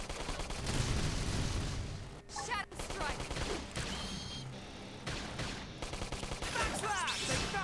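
Enemy gunfire in the Xenoblade Chronicles X video game, dense overlapping shots and blasts under a busy, loud battle mix with music and effects, continuous throughout.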